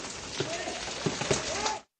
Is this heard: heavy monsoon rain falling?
yes